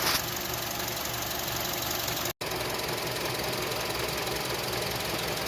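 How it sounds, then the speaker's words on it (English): A 2007 Honda CR-V with a stalling problem runs at about 2000 RPM, a steady close mechanical drone with a ticking, knocking edge. The sound cuts out in a brief gap partway through, then the same hum resumes. "I'm gonna give it some gas, 2000 RPM."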